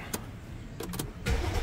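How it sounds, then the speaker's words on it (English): A Mercedes-Benz S550 engine cranking and catching after a fuel pump replacement: brief starter bursts, then a louder turnover as the engine fires near the end, with no talk. "And there we go. You have engine start."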